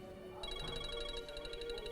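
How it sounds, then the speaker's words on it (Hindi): A mobile phone rings with a repeating electronic ringtone, a pulsing bright tone at moderate level over a faint room hum, starting shortly after a brief quiet moment. "आपका फोन बजना शुरू हो गया"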